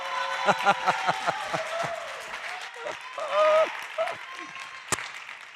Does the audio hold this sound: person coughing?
no